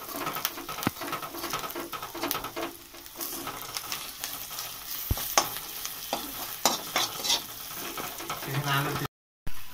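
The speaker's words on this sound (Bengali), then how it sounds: "এবার মশলাটাকে আমরা ভালো করে কষে নিচ্ছি" Spice masala frying and being stirred in a pan for bread chop, a dense steady sizzle with repeated scraping strokes and clinks, birds faintly calling in the background.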